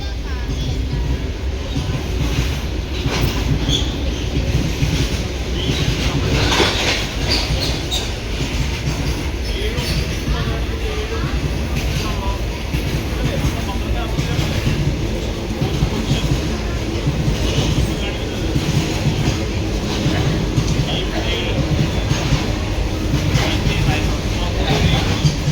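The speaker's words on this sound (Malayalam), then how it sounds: "ഒരു ട്രെയിൻ വരുന്നുണ്ട് കേട്ടോ. ഗെയ്സ് ഇത് ഗുഡ്സ് ആണ് കേട്ടോ." A goods train rolls past on the line, a continuous loud rumble and clatter of wagons with rhythmic clickety-clack of wheels for the whole stretch, heard from nearby.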